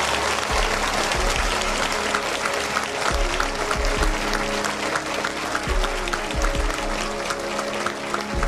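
A university audience applauds graduates from Afghanistan at a collaboration event between the University of Hartford and Herat University, with steady, loud clapping that fills a large hall throughout.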